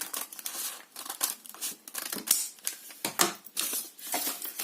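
Paper being cut to make a small notebook, with a quick series of close, crisp snips and papery crinkles in an uneven rhythm, no talking.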